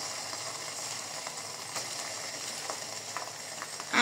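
Onions and spices fry in a pan for chicken biryani, a steady, close crackling sizzle with occasional light scrapes and no voices.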